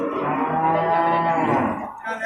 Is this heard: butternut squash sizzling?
no